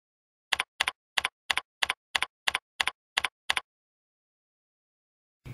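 Ten crisp, evenly spaced keystrokes on a computer keyboard tap out a short name, close and clear, followed by silence.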